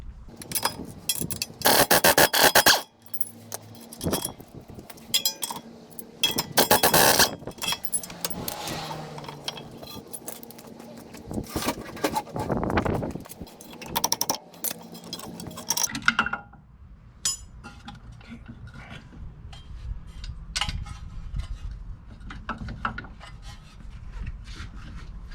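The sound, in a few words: removing bolts from car spindle and strut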